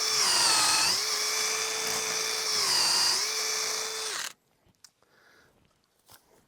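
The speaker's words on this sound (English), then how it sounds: "I'm going to drill in all the way down to my mark" Power drill boring deep into a wooden fence brace post, a loud steady high whine that dips in pitch under load twice, then cuts off abruptly, leaving faint handling knocks.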